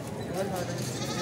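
A goat bleats at a busy Sunday pet market in Hyderabad, a short wavering call heard under people talking and general crowd murmur.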